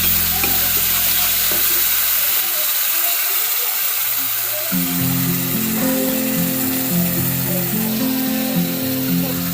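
A banana flower spice mix sizzles and hisses loudly in a pan after water is added, with a sustained frying crackle and steam throughout, alongside a low hum.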